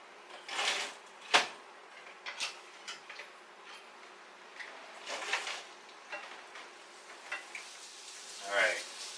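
Bacon frying in a pan gives a faint, soft sizzle broken by scattered clicks and scrapes of a utensil, quiet and close, with no talking.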